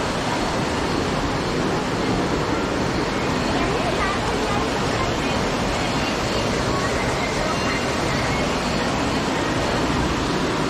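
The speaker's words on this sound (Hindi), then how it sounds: "सामने बहती हुई कलकल ये नदी का साउंड इतना अच्छा लग रहा है" Fast-flowing river water rushes past Tapkeshwar Mahadev temple in Dehradun, a dense, unbroken roar filling the whole stretch, with a faint murmur of people mixed in.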